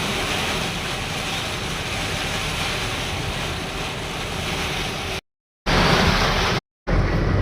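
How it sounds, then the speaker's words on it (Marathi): Heavy rain pours steadily during a night-long road trip towards Nanded, a loud, dense broadband wash that continues unbroken apart from two brief dropouts near the end. "किती अफाट पाऊस पडाले"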